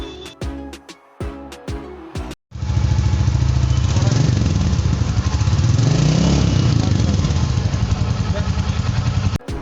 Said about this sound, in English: we'll now listen to the exhaust note of the Royal Enfield Classic 350